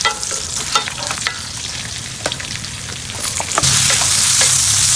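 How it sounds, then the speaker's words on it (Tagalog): Garlic and onion sizzle with pork in a pan, a loud, steady frying hiss with scattered pops and stirring scrapes that swells into a fuller, louder sizzle near the end. "ipapaliis ko lang yan kasi magigisa na tayo ng bawang at sibuyas"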